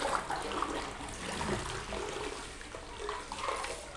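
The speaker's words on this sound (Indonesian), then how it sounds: "Kemudian ya bisa di flush ini" A modern toilet in a Tokyo public restroom flushes, giving a steady rushing gush of water that holds at a constant, fairly loud level throughout, with no voices heard.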